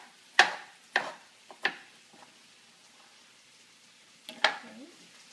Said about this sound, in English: I'm going to finish up my potato chopping over here.